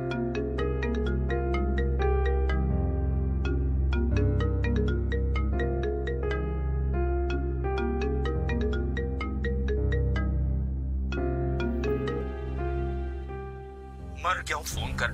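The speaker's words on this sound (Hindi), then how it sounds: "किसका फोन बज रहा है?" A mobile phone ringtone plays a steady, repeating melodic pattern through nearly the whole stretch, fairly loud and continuous, with a short burst of other noise at the very end, heard during a tense household scene in a drama serial.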